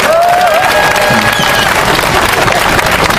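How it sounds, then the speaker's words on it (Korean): Crowd at an outdoor protest mass applauds for police, a loud, continuous roar of many people clapping, with a faint tonal whistle or voice drifting through at the start. "우리 더운 대회 고생하셔서 박수 한번 쳐드리도록 하겠습니다"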